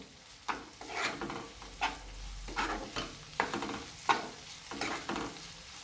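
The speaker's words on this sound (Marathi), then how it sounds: "आपण आता एक टोमॅटो कट करून घेतलेलं ते टाकून घेणार आहोत त्याच्यामध्ये ते पण छान परतून घेणार आहोत" Chopped tomato sautés in a hot pan under repeated spatula strokes, a continuous gentle sizzle broken by scraping stirs every second or so, close by and with no talking.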